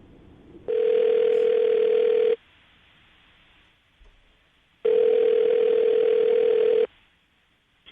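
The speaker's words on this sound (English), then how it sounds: "I'm going to dial the phone number right now" A telephone line tone sounds while a phone number is dialed for a radio call, as two long, loud steady beeps of about two seconds each, separated by quiet gaps.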